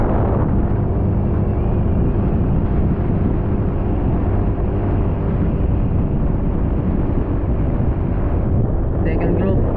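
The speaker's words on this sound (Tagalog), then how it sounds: "Lakas yung hangin dito." Strong wind roars and buffets the microphone beside a road during a cycling race, a continuous low rumbling gust noise that holds steady and loud for the whole stretch.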